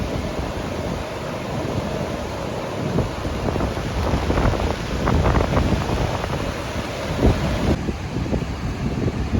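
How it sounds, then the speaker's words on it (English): Heavy wind buffets the microphone over a rough, high-tide sea breaking at Kelva Beach in Palghar, a continuous loud roar of gusts and surf with no voices. "Walking on the beach is prohibited because of the high tide and heavy winds currently"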